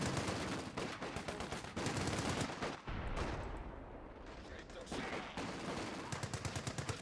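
Continuous heavy gunfire from the Company of Heroes 2 Dunkirk mission, with dense machine-gun bursts and rifle shots rattling loudly throughout and one brief dip midway.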